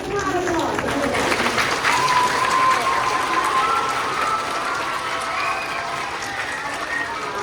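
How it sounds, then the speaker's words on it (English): An audience at a school heart challenge assembly applauds, a dense, steady roar of clapping and crowd noise for several seconds, with talk mixed in. "Well, they get a lot of applause."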